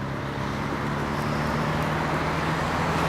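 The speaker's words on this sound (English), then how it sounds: "a bit busy with the traffic" Steady road traffic rumbles past a riverside footpath in Wellingborough, a continuous broadband wash of cars and motor vehicles with no pauses or distinct events.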